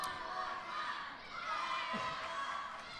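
A crowd at the 2015 Living the Dream match between Devin Thomas and Tarik cheers and roars in a steady, fairly distant wash, with individual voices rising out of the din for the full three seconds.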